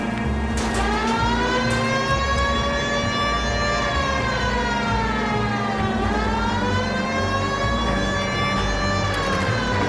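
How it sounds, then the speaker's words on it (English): A loud wailing police car siren in the video game L.A. Noire rises and falls continuously over engine rumble, close and unbroken. "Why aren't you using the siren?"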